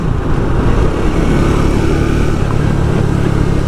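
A 2024 Triumph Speed 400 motorcycle cruising at over 70 mph, its engine drone loud and steady beneath dense rushing wind noise, with no voices.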